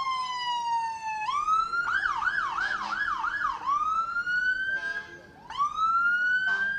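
A law enforcement vehicle's police-style siren wails nearby at a Christmas parade in Dexter, rising and falling with a fast yelping stretch in the middle, then sweeping up again, loud and continuous.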